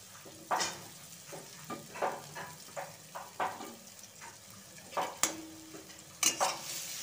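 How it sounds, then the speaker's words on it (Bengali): Carrots being stir-fried in hot oil in a wok (kadai) for fried rice, with a spatula scraping and tossing in steady repeated strokes over a soft sizzle, close and fairly quiet. "গাজরগুলো নেড়ে চেড়ে একটু ভেজে নেবো।"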